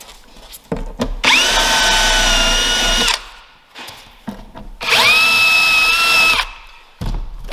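A cordless drill drives corner screws into a frameless Scandi-style birch drawer cabinet in two loud, close whirring bursts of about two seconds each, the motor pitch rising and holding, separated by short pauses with light handling clicks.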